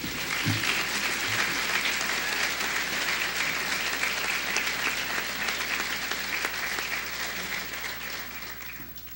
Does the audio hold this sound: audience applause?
yes